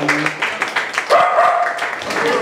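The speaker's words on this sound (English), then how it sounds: "A big round of applause." Scattered audience applause breaks out at a Pride festival event, with uneven claps and a dog barking near the start, while voices and crowd reactions carry on underneath.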